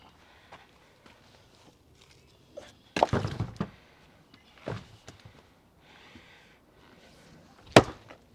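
A vintage AmericanAx axe splits wet oak, landing a few heavy, close chopping thunks separated by quiet pauses with faint shuffling between strikes.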